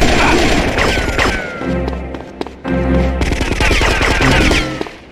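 Loud gunfire in GTA Vice City Stories, dense rapid automatic bursts with sharp cracks layered over game music and a low rumble, close and intense throughout with brief dips in the barrage.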